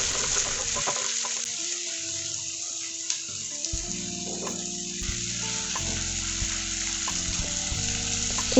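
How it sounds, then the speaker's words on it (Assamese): Chopped tomatoes fry with onions in a pan while a spatula stirs them for curd chicken curry, making a continuous close sizzle with scattered crackles and occasional scraping clicks. "আৰু হেতাৰে লৰাই 3 মিনিটমান সময় ভাজিলোঁ।"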